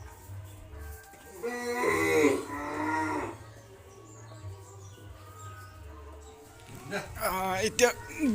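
Cattle mooing at a Goru Bihu festival gathering, a loud drawn-out low call followed by quieter lowing, with people talking nearby and a bird chirping.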